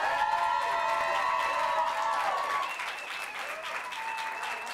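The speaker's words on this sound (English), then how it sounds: "A big round of applause for Alice and Jenny." Audience applause at the 2014 People's Choice Awards, a steady dense clapping from a large crowd that fills the hall, easing slightly partway through, with faint voices mixed in.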